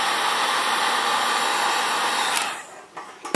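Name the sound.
heat gun shrinking heat shrink tubing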